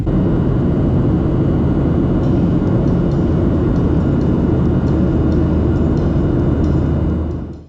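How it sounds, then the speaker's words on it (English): Qantas airliner climbing out of Sydney toward Adelaide, a loud, steady broadband roar of engines heard from inside the cabin, unbroken for several seconds before fading out at the end. "Once airborne, we turned left, setting a westerly course over the suburbs towards Adelaide."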